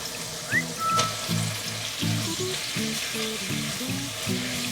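Spinach fries in aglio olio sauce in a pan with a steady close sizzle, while a tonal melodic line of notes runs underneath and a brief clink sounds near the start.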